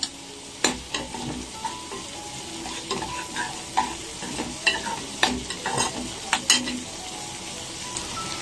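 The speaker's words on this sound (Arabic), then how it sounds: "هسيبه يتشوح مع نفسه" Green beans and minced meat sauté in a pan, a steady soft sizzle punctuated by repeated clicks and scrapes of a spoon stirring against the pan.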